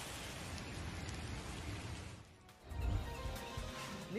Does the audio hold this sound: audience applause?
no